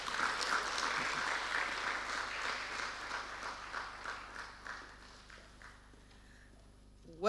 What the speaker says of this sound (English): I would expect that the applause is a bit louder than what we have.